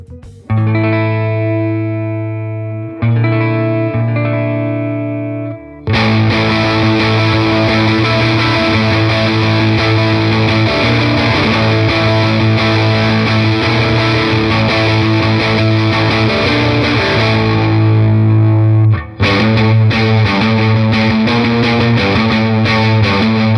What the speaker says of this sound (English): I want you to hear the distortion sound with another amp than